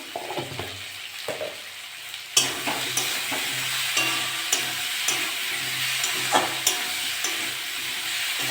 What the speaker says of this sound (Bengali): একটু কষে নেব ভালো করে কষে নিয়েছি